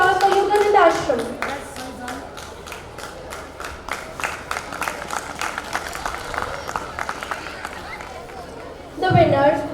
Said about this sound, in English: A huge round of applause for Yogananda Ashram